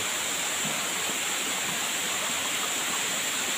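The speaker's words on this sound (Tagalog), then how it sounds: "Pagbagsak ng tubig papunta sa baba, ayun, nakita nyo." A waterfall pours down, a loud, continuous, even roar of rushing water heard up close with no talking.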